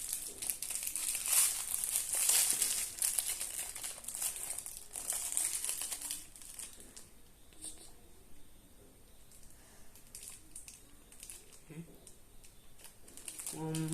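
Crinkly plastic wrapper from a Kinder Joy egg's toy car being torn open and crumpled by hand, close and busy at first, then softer rustling.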